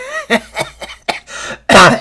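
A man laughs wildly like a maniac, several bursts of cackling, then finishes with a loud, close, harsh cough standing alone.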